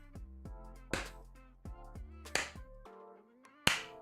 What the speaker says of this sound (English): I only do slow hand clapping